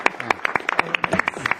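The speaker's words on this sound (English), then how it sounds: "I just think that we should give her a round of applause" A round of applause at a 2011 congressional hearing on the EPA and the power sector, for a witness's attentive daughter: a short burst of scattered, uneven hand claps from a small group in a hearing room, fairly close and moderately loud.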